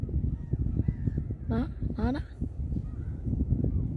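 Birds on the beach at Le Touquet give two loud, squealing calls close together in the middle, while people talk throughout over a breezy outdoor background.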